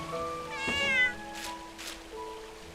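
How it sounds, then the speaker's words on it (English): A cat in the game Little Witch in the Woods meows loudly, one strained meow followed by two short breathy sounds, with no talking over it. "That cat is so loud."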